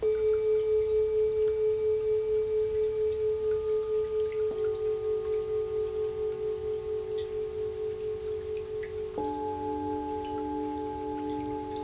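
A cup bowl is struck three times with fiberglass and rattan inviters, each strike ringing into a long, full tone with a slow, steady wavering; the pitch shifts slightly with each new strike.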